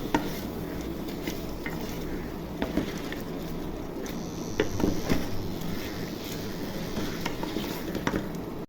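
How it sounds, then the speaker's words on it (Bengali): Beef curry with cardamom powder stirred in a pot, a dense wet bubbling simmer with occasional clinks and scrapes of a spoon against the metal, close and steady. "এখন ছোট এলাচের গুঁড়ি দিয়ে নেড়ে চেড়ে ঢেকে রাখবো"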